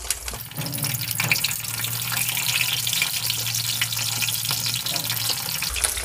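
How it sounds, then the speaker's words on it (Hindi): Jackfruit pieces shallow frying in hot oil over a high flame, a continuous close hiss and sizzle with faint clinks of stirring throughout. "हम इसे हाई फ्लेम पे कटहल को फ्राई कर लेंगे तो मैं ये शैलो फ्राई कर रही हूँ सारे कटहल को"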